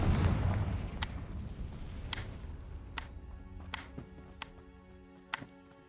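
Confringo blasting spell in Hogwarts Legacy: a heavy rumbling burst fading out, followed by a series of sharp, evenly spaced cracks and pops that trail off into quiet.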